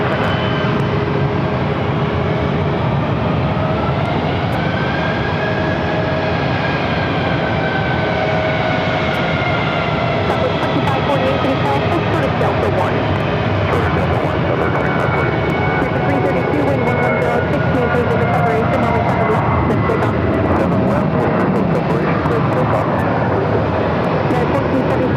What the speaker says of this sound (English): So Foxtrot 3, gate F3 is where that JetBlue A321 is heading.